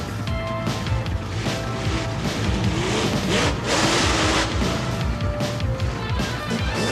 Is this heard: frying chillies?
no